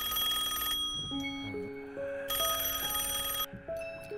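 A telephone rings with bright electronic bursts, two long trilling rings separated by a pause, close and clear with soft tones between, during a call scene in a Kannada short film.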